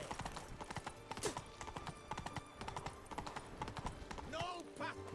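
Roach the horse's hooves clip-clop steadily at close range in The Witcher 3, with a brief whinny, over game ambience and background music.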